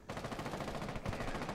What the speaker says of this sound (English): Gunfire ablaze, lighting the skies. Raining down bullets like shards of broken dreams.